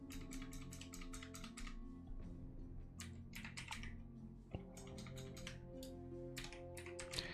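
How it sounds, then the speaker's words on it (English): Steady computer-keyboard typing with rapid, irregular clicks in quick bursts and brief pauses, close and clear over a faint background hum. "I'm going to stop typing here for a second"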